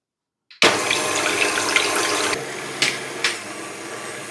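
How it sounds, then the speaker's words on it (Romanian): An electric hand mixer whirs steadily while beating egg whites with a pinch of salt and powdered sugar into stiff foam for a Queen Maria cake, starting abruptly and running continuously with a couple of brief louder surges, close and alone. "Și acum mixez."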